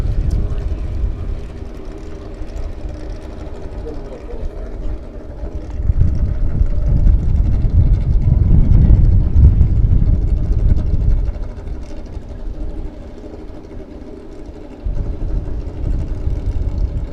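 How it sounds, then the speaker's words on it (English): Drag racing motorcycles roar down the strip on a warm Las Vegas afternoon, a loud sustained engine drone that swells in the middle and fades, then picks up again near the end. "Motorcycle time."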